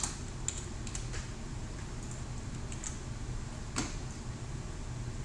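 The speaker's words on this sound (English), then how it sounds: "So let's type that in there." Computer keyboard typing, a few light, scattered clicks in a quiet room, faint and close, with soft background hiss.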